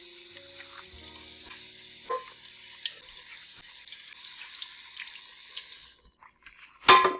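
Tap water runs steadily onto a dry pan bottom that is about to be cleaned, a continuous hiss with a few small splashes, then it stops and a brief clatter follows near the end.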